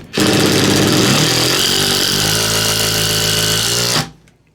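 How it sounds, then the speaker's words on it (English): A Makita 18V compact drill driver drives a screw in one loud, steady whirring run of about four seconds that stops abruptly, heard close up with no talk. "The Makita seems to have put that screw in a little bit faster."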